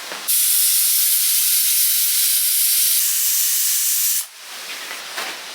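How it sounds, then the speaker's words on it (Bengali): A pressure cooker full of spicy duck curry vents steam in one loud, steady hiss lasting about four seconds, which then cuts off abruptly and leaves quieter room noise. "কয়েকটা সিটি ফেলে নিয়েছি কিছুক্ষণ বসানো থাক কিছুক্ষণ বসানো ছিল এবার প্রেসার কুকারটা খুলে দেখবো"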